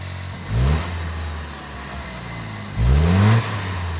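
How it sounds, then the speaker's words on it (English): A Toyota Land Cruiser with a louder turbo sits at idle, then is revved twice in sharp bursts, each rising with a whooshing turbo whir before falling back to the idle drone. "I'm gonna put my mic in the front and rev the engine once it's on"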